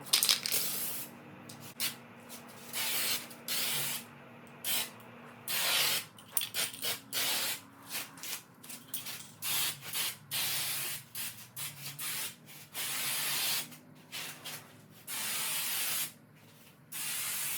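A Rust-Oleum Turbo spray can applies paint to a car bumper at home, giving close, repeated hissing bursts of spray separated by short pauses.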